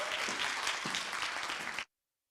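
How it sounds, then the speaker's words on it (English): A conference audience bursts into steady applause for an incoming speaker, dense and sustained at the same level before cutting off abruptly just short of two seconds. "Give her a very big applause"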